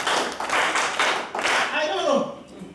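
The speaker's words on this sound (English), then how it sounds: "Let us clap for her" An audience at a launch event for the Workers in Informal Economy Network Uganda breaks into a brief round of clapping. It fades as a voice begins speaking over the end.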